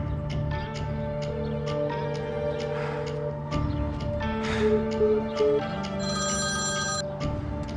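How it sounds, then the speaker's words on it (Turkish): A telephone ringing in repeated bursts over a steady tonal background, fairly loud and continuous, with a brighter electronic tone near the end. "Aç şu telefonu Berrak aç."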